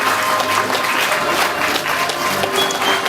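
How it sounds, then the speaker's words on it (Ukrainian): Audience applause fills an award ceremony for gas transport workers, steady and dense clapping from a sizable crowd with a faint voice underneath. "Микола Олексійович, ці оплески для вас"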